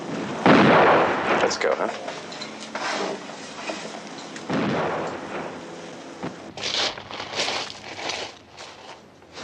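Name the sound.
shotgun fire during skeet shooting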